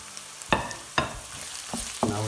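Garlic and onions cook gently over low heat in a pan for aloo gobi, a soft sizzle under a few scraping stirs of a spoon, close and fairly quiet.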